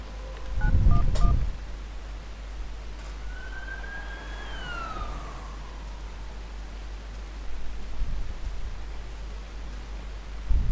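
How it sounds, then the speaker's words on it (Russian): Telephone dialing in a Hello Neighbor mod (Mod Kit, Hello Recluse): a quick cluster of dial tones near the start, then a rising and falling siren-like electronic sweep over a steady hiss. "Телефон."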